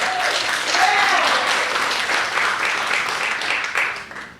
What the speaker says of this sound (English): So please, another round of applause for Elijah.